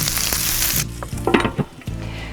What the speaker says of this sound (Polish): Myślę, że boczek już jest gotowy. On jest taki mocno przysmażony